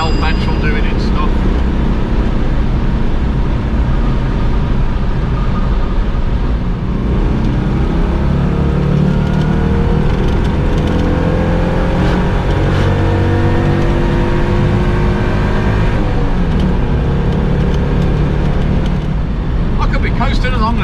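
A Citroen 2CV's small engine drones steadily the whole time as the car drives on Shell V-Power petrol, its loud, constant hum rising and falling gently with road noise around it.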